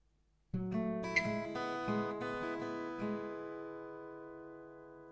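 An acoustic guitar plays a ringing melodic intro, plucked notes blending and sustaining, clear and close with no voice.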